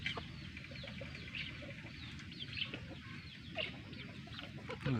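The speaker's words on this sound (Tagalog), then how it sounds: "Yun oh, malaking manok din to." A flock of large backyard chickens and grown chicks cluck softly in scattered bursts amid faint farmyard ambience and low background rumble, fairly distant and quiet, with no clear speech.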